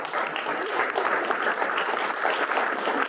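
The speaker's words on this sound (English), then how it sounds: "let's give them a round of applause" A full round of audience applause at a Texas primary candidate forum on public education, steady and dense clapping that holds at an even level from start to finish.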